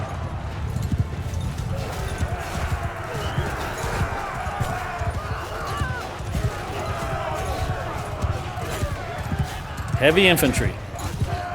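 Cavalry horses gallop across a Mount & Blade II Bannerlord battlefield in a steady drumming of hooves, with a brief whinny near the end. Someone talks over the hoofbeats throughout.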